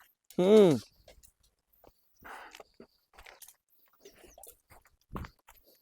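A single short dog bark up front, followed by scattered quiet knocks, footsteps and small handling noises.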